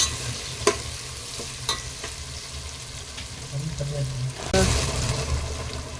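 Green chillies and tomatoes sautéing for Thalappakatti-style chicken biryani, with steady stirring and scraping in the pan and a few sharper clatters of the spoon; a burst of sizzle rises near the end.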